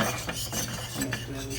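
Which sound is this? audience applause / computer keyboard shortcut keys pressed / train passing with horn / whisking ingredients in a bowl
whisking ingredients in a bowl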